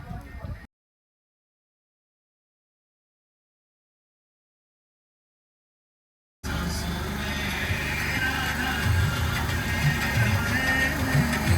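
After a stretch of total silence, a boat engine on a ride in Vrindavan starts up abruptly, droning steadily and close with a low rumbling chug and faint background noise.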